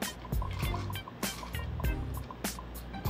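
Vanilla syrup pours slowly into a Dr Pepper drink, giving soft, irregular liquid drips and trickles, close and fairly quiet, with faint handling noises between them.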